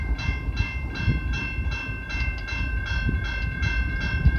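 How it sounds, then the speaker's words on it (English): CN freight train 509 rolls into London East Yard in London, Ontario, arriving from Sarnia, with a steady low rumble and rhythmic wheel clatter continuing throughout, with faint high-pitched tones above, close by and with no voices. "We got CNL 509 coming into the London East Yard"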